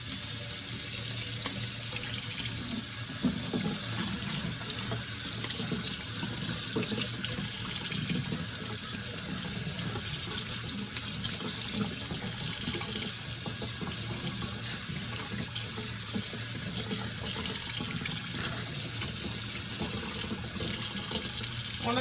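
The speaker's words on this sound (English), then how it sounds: "One of the things that we're doing with the water, especially the cool water, is we're cooling the lettuce down and rehydrating it" Cool tap water runs steadily into a sink over freshly harvested garden lettuce, a constant loud hiss and splash with small shifts as the leaves are moved, no talking.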